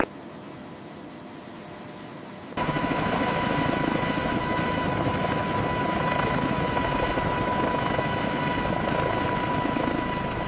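An AH-64 Apache attack helicopter roars in after a quieter stretch, its dense rotor and turbine noise with a steady whine holding loud and continuous close by.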